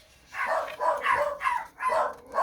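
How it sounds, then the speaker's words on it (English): Several pet dogs bark indoors in a quick run of five or six close, loud barks, roused by someone walking down the street outside. "Yep, that's my dogs."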